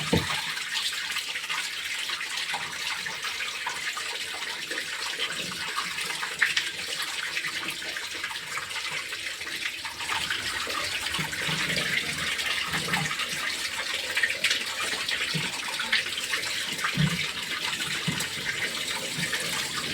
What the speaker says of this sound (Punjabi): ਤੁਸੀਂ ਚਾਹੋ ਤਾਂ ਪਾਣੀ ਉੱਪਰੋਂ ਐਵੇਂ ਇਦਾਂ ਹੀ ਪਾਈ ਜਾਓ ਤੇ ਆਪਾਂ ਇਧਰੋਂ ਡਰੇਨ ਕਰ ਦਾਂਗੇ ਪਾਣੀ ਬਾਹਰ ਕੱਢ ਦਾਂਗੇ